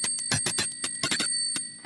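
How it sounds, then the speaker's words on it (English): A hand bell rung repeatedly at a virtual healers' fair, a rapid series of bright metallic strikes with a sustained ringing tone that fades away after a last stroke, loud and close. "Better get my bell out."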